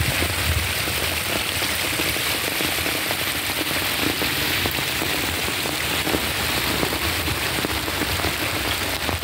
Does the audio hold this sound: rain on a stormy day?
yes